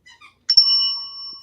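A single bright bell ding rings out clearly after a couple of faint soft taps, its clear tone holding and slowly fading over about a second.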